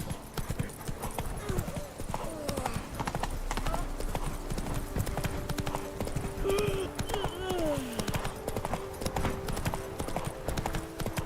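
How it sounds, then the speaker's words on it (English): Horse hooves clip-clop steadily at a gallop in the Witcher 3 game world, a continuous rhythmic beat with a brief whinny partway through, heard over ambient game sound and a voice. "Even a horse drops if you ride it at a constant gallop."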